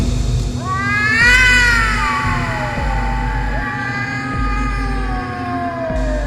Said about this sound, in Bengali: সেই বিশাল আকৃতির বিড়ালের শব্দ আমাকে পাগল করে তুলছে